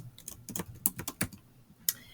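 Computer keyboard typing: a string of quick, close keystrokes with uneven spacing and a couple of sharper clacks, heard alone in a quiet room.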